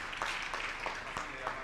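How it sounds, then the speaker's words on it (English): An audience at a sports career fair and symposium in Nairobi claps for a speaker, a modest spread of hand claps with a few sharper individual claps standing out, while a voice talks over it. "Let us clap for Peter."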